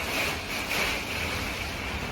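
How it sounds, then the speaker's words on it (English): Strong hurricane wind gusts from Hurricane Ian buffet an RV, giving a steady, loud broadband roar that swells slightly in gusts throughout, with no talking. "All that extra gusting, I'm not running out there."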